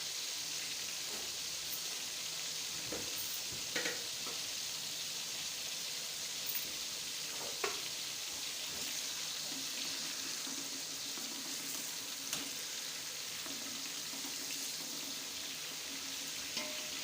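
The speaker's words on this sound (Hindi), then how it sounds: "हल्का सा इसे पहले फ्राई कर लेते हैं।" Haleem ingredients frying lightly in a pot, a faint continuous sizzle with soft scattered crackles and occasional stirring clinks, steady throughout.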